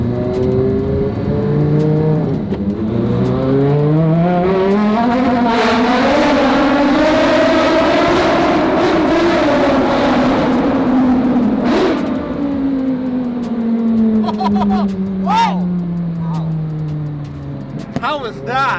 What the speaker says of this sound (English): Oh, I love this car.